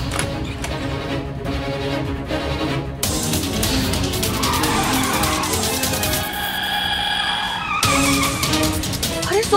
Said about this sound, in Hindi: अरे सोम जी, गाड़ी धीरे चलाइए